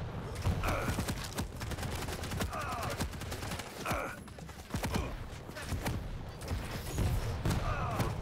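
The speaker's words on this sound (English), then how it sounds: "We are getting BJ, though, with the dual machine guns" Dual machine guns fire in a competitive first-person shooter match, rapid bursts of close, punchy shots rattling in quick succession with short pauses between volleys.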